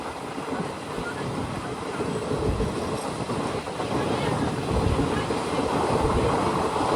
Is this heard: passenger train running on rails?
yes